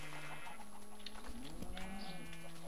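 Sheep bleating in the Minecraft video game, a few short, fairly quiet calls standing out over a faint steady background tone.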